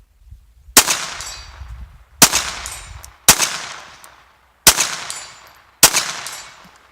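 Five sharp gunshots from a Ruger Standard .22 LR pistol at an outdoor range, each a loud crack with a short decaying tail, fired at a slow, irregular pace with no talk.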